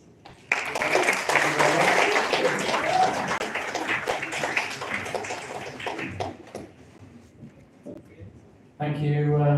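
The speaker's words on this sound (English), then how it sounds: "I'd like to thank the panel with a round of applause" A panel discussion audience breaks into loud applause that swells, then thins and fades over several seconds before a voice starts speaking at the end.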